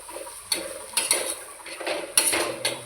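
Egg mixture for a homemade omelette seasoned with garam masala, whisked in a bowl with a utensil, giving a few sharp clicks and scrapes that stand out over soft, steady stirring.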